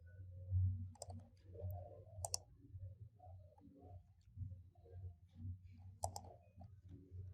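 Computer keyboard presses and mouse clicks while working in Photoshop, a few sparse, sharp clicks spaced irregularly over a quiet low background hum.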